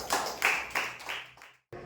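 A church congregation clapping at a Resurrection Sunday service, a few loud, distinct rhythmic claps close by, then a brief pause before one more.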